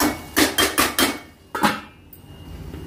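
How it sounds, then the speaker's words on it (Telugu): A metal lid is set onto a pot of spicy Andhra egg curry simmering with tomato, chilli and pepper, giving a quick run of four sharp clanks, then one more knock after a pause, close and alone. "మూత పెట్టేస్తాం."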